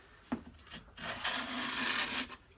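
A restored vintage Stanley 110 block plane shaves across wood end grain in a single rasping stroke lasting over a second, preceded by a brief knock, close and fairly quiet with no talk.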